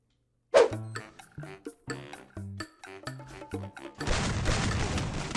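A grenade explodes in the Free Fire mobile shooter: a loud, sustained broadband blast arrives near the end, after a stretch of punchy tonal game sounds.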